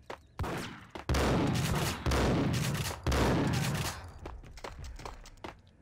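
Pump-action shotgun gunfire in the Max Payne video game: a burst of loud, close blasts arriving in quick succession, several heavy booms about a second apart with ringing tails and smaller clatter between them, no talk.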